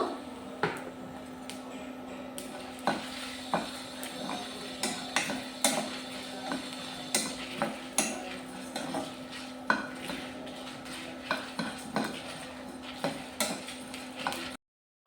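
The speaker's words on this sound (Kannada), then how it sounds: "ನಾನೀಗ ಒಂದು ಆರು ಒಣಮೆಣಸಿನಕಾಯಿ ಆಮೇಲೆ ಸ್ವಲ್ಪ ಧನಿಯಾ ಬೀಜ ಹಾಕ್ತಾ ಇದ್ದೀನಿ ಇದನ್ನು ಕೂಡ ಹುರ್ಕೊಳ್ಬೇಕು" Dried red chillies and coriander seeds being dry-roasted in a pan, with soft irregular scraping and tapping as a utensil stirs them steadily against the metal. The stirring stays quiet, and no one speaks.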